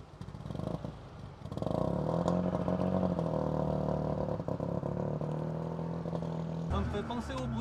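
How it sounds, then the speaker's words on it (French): A Panhard Dyna Z16 flat-twin engine idles cold, a steady, loud, buzzing thrum that settles in after a couple of seconds and runs on with a slight uneven clatter, with voices in the background. "moteur à froid, enfin moteur à plat"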